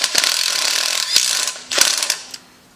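Ratchet driving a quarter-20 bolt into the engine block of a Coleman BT200X minibike, a close, loud run of rapid metallic clicks in several bursts separated by brief pauses, ending in quiet.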